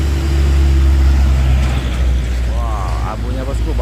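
An orange bus races past on a hill road with a steady loud engine rumble from nearby, easing off as other mechanical whines and a voice come in toward the end.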